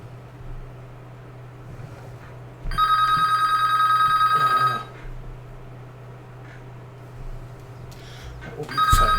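Electronic telephone ringing in the Farming Simulator 22 game on the Glenleathann map: a long, bright burst of a few seconds over steady low engine rumble, then a second ring beginning near the end.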